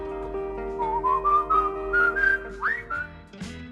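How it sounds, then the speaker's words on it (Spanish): A professional whistler carries a 1970s instrumental pop tune, a clear bright whistled melody gliding and rising in steady phrases over a sustained backing accompaniment, no singing. "Este tema instrumental consistía básicamente en una melodía silbada, sin letra, sin riffs, sin alma."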